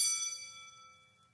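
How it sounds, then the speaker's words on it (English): A class bell in the Colonel Sanders dating sim rings with one bright metallic strike, then its clear ringing tone decays steadily over about a second and a half, with nothing else heard. "class bell rings,"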